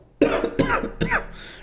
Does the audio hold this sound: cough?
yes